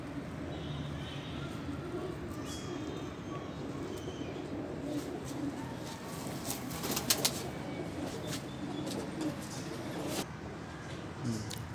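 A female Salara pigeon coos softly under steady background noise, with brief wing-flapping bursts around the middle, while someone talks over it.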